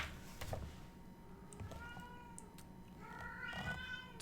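A house cat meows several times, with rising and falling wails that grow louder toward the end. A low room hum sits underneath, and there is no clear speech.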